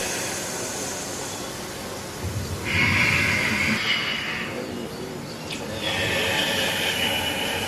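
Slow yoga breathing at a group session beside a lake, with a long hissing breath through the nose, a pause, then a second drawn-out nasal breath, close and fairly quiet.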